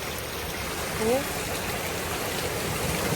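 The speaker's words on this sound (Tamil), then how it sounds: "தண்ணியை பாருங்க எப்படி வருதுன்னு ஆசையாக இருக்குது தண்ணியை பார்க்க" Rain falling on a garden in Germany, with running water pouring steadily in a continuous hiss and rush, and a brief faint voice-like sound partway through.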